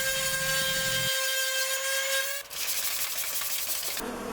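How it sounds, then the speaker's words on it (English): Paint being sanded by hand off a routered wooden sign, a steady close rubbing scrape that shifts in tone partway through, with no talking. "Sand that off and do it over. And it sands off so easily."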